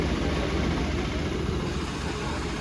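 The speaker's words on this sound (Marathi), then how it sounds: "2 ट्रॅक्टर आणायला लागले. एक ट्रॅक्टर तिकडं आहे, एक ट्रॅक्टर इकडं आहे." A low, continuous tractor engine drone with a throbbing rumble, steady throughout like a tractor idling nearby, used to raise a heavy Dahi Handi pot at a festival.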